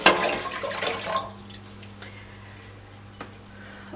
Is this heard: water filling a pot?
yes